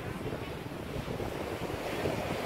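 Sea waves at a beach on the southern coast of Paraíba, a broad continuous wash of surf mixed with wind buffeting the microphone, steady and moderately loud.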